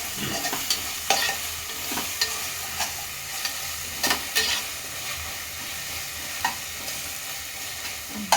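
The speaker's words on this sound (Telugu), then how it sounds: "ఇది మంచి పచ్చివాసన పోయేంత వరకు మనము మంచిగా వేయించుకోవాలి." Masala for chicken biryani fries in a pan under a steady sizzling hiss, with a spoon scraping and knocking against the pan every second or so in an uneven stirring rhythm.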